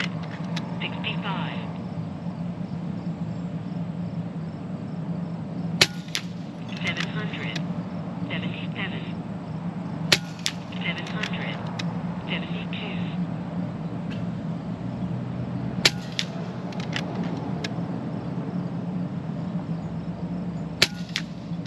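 FX Maverick Compact .25 caliber air rifle firing ZAN slugs, about five sharp single shots spaced several seconds apart over a steady low hum, with faint talk in the background.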